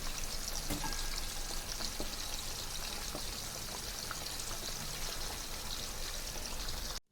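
Fish pieces for a pickle fry in hot oil, giving a dense, steady, loud sizzle and crackle close by that runs throughout and then cuts off abruptly.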